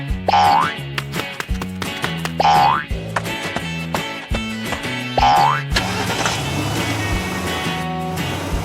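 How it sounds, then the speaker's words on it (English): Cartoon car starting off with a springy boing effect repeated three times over bouncy music, then a rising engine-like whoosh as it drives away. "The whole family quickly got ready, hopped into the car, and set off"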